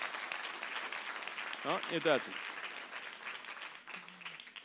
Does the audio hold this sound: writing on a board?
no